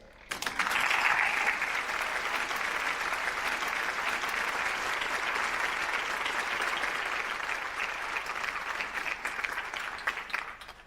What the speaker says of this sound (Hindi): वो आपकी भरपूर तालियों में स्टेज पर तशरीफ़ लाएं